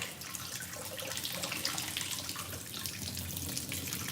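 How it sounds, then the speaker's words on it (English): Water drains steadily into a kitchen sink as a continuous close hiss and splash, with no pauses and no voices. "I'm gonna drain the water out"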